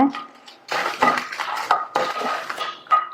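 Kashmiri chillies are dry-roasted in a pan over a medium flame for a radish thuvaiyal, giving close, uneven bursts of clattering and scraping as they are stirred and tossed against the metal.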